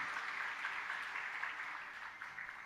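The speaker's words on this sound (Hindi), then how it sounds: "आपने ताली बजाई" Audience at a devotional religious storytelling gathering claps steadily, a soft, continuous wash of applause heard at a distance and fairly faint, fading slightly toward the end.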